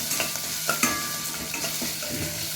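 Ginger fries in hot oil in a pan for a mango and wheat rava pulihora, giving a continuous close crackling sizzle with occasional scraping stirs and small clinks.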